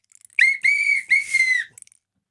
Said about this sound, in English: Just out of curiosity, what is the point of the whistle? It's the playoff whistle.